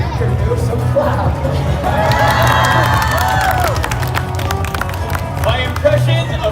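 Crowd at a Boston street show clapping and cheering, a dense wash of applause and shouts with whistles, close and loud, steady throughout with voices mixed in.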